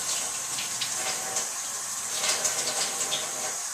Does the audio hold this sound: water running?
yes